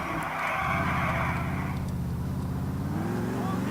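A car driving in the video game Grand Theft Auto IV, its engine droning steadily with a revving pitch that drops and rises again, loud and close.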